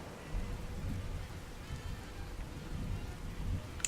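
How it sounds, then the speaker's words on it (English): Thunderstorm with steady rain in the video game Fallout 4, a dense continuous hiss of rainfall over low rumbling thunder, moderately quiet and even throughout with no talk. "And the storms are just, like, so much more scary."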